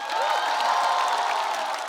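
A stand-up comedy audience cheers and applauds, a dense, continuous crowd roar with whoops, steady and loud throughout.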